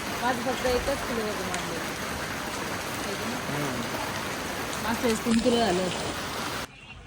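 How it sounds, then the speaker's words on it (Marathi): Steady rain falls and patters on surfaces while people talk quietly underneath; the hiss cuts off abruptly near the end. "हा पाऊस जायची वाट बघतोय."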